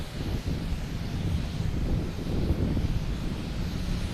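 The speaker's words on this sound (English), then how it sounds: "Just had an Alaskan Airlines come in from San Diego." A jet airliner arriving at Boston Logan Airport makes a steady, broad engine roar at moderate distance, with wind buffeting the microphone and no talk.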